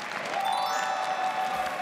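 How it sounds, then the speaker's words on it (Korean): An audience of soldiers applauds steadily and loudly at a military singing contest, under a bright, sustained tone that rises then holds, with a faint crowd murmur. "박수 부탁드릴게요"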